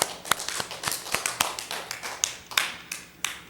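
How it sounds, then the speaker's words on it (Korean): A church congregation at a New Year thanksgiving service claps in quick, uneven bursts, individual hand claps distinct and fairly close, fading into scattered taps toward the end. "하나님께 영광의 박수 올리겠습니다"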